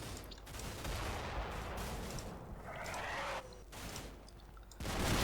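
Wiesel armored vehicle firing in the Combat Mission Shock Force 2 wargame, heard as dense rolling bursts of gunfire that come in waves, with brief lulls between.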